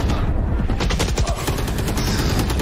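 Rapid gunfire exchange in the Valorant shooter game during a competitive match, dense bursts of shots stacking on each other at close range, loud and continuous for a few seconds.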